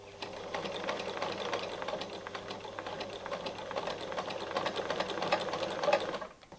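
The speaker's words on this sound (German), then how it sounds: "Und damit nähen wir jetzt ganz langsam bis zum Ende" A sewing machine with a walking foot stitches fabric slowly for a homemade origami-style advent calendar, its needle tapping in a steady close rhythm that stops at the end.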